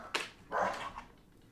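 A pet puppy makes a short whimpering yelp, then a longer whiny vocalization, both fairly quiet and close in a calm indoor room.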